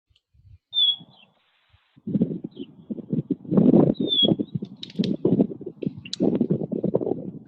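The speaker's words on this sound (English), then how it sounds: "I hear bird sounds." Two short, high bird chirps ring out over a low, rumbling murmur that fills most of the stretch, the calls brief and moderately near.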